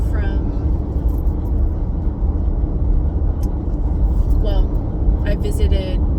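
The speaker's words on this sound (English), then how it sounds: "driving home right now" Steady road noise inside a car driving home at night, a continuous low rumble filling the cabin with brief faint squeaks and chirps near the start and end.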